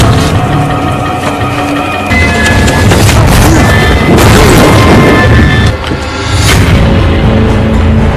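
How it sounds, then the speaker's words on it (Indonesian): A police car slams into a tree in a loud, dense burst of crashing and booming impacts that keeps going for several seconds, with no talking. "di mana mobilnya berhasil menabrak pohon tempat si sniper bersemayam"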